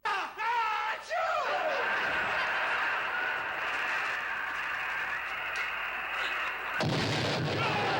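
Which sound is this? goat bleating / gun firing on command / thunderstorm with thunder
gun firing on command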